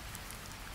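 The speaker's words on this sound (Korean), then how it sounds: "激しい雨の降る夜だった。" Heavy nighttime rain falls in a dense, continuous hiss, steady and close, with no other sounds.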